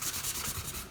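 A fine sander runs across wood with a steady, pulsing abrasive rub, close and moderately quiet, and no other sound over it.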